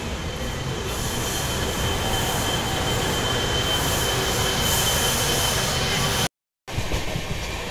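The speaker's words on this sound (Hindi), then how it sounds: "यहाँ अपनी रेल ने स्पीड पकड़ ली है" A passenger train runs at speed on the rails on the way to Mathura, with a steady, loud roar and rumble of wheels and carriage noise throughout, briefly cut out near the end.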